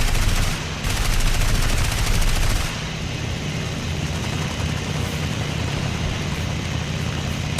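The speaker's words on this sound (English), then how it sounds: "That's the Catalina shooting at me" Catalina aircraft gunfire in the War Thunder video game, heard as dense, continuous rapid machine-gun bursts over a roaring engine drone. The fire is loud and sustained, with a brief gap near the start, and no talk.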